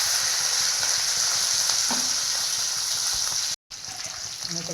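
Cumin seeds, curry leaves and green chillies sizzle steadily in hot oil for onion poha, a dense continuous frying hiss with faint stirring clinks, broken by one brief silent gap near the end.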